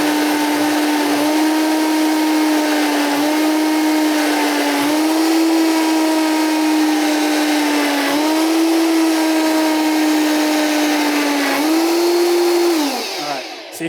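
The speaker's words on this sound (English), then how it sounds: "So you kind of hear it when you go through the blender" A blender purees coconut milk continuously at high speed, loud and close, its pitch dipping and rising slightly as the contents churn, then winding down at the end.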